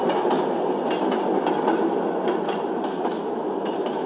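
A train rolls along the rails of a Russian Far East railway in 1987 with a steady, continuous rumble and faint rhythmic clatter, loud and close throughout.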